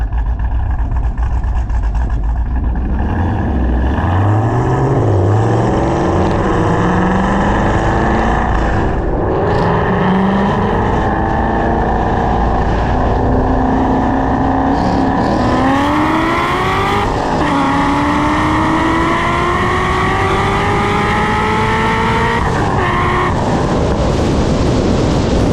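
Roll race between a C6 Z06 Corvette and a boosted Mustang making around 650 horsepower, with loud engines roaring as they rise through the gears and repeated upshifts, continuous and close with no talking.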